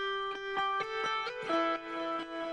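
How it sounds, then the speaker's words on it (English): Lead electric guitar line for a trance track, a bright sustained melody of held notes with rhythmic gated pulses, playing alone and fairly loud with no voices. "That's your lead guitar"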